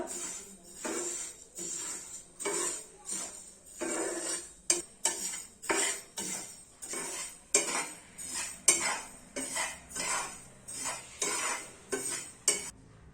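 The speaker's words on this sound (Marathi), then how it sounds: "हे तीळ आपण चांगली मस्तपैकी खरपूस भाजून घेऊया।" Sesame seeds are dry-roasted in a pan and stirred with a utensil, giving steady rhythmic scraping and rattling strokes that repeat about once a second, close and clear with no talk.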